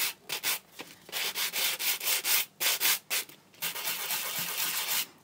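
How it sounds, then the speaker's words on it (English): Grunge paste sanded back with a sanding block, a run of rhythmic rasping strokes that starts with short separated rubs, then settles into steadier, longer scrubbing, close and fairly loud with no talk. "You can sand it back"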